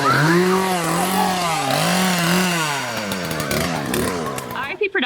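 A chainsaw revs loudly and close at a haunted house attraction, its engine pitch rising and falling in long wavering sweeps before cutting off abruptly at the end.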